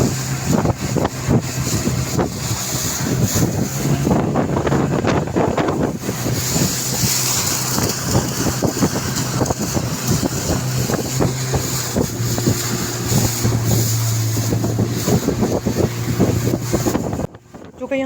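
A small motorboat carries children across shallow water at Head Marala, Sialkot, its engine droning steadily under heavy wind buffeting on the microphone, with faint voices and splashing mixed in until the sound cuts off abruptly near the end.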